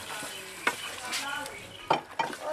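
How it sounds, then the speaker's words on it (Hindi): Chicken for biryani stirred and frying in a pot, village style, with a steady sizzle under a few scraping stirs of the spoon against the pot. "इसको थोड़ा सा हिला लेंगे। मज़ीद 10 मिनट के लिए इसको और भून लेंगे"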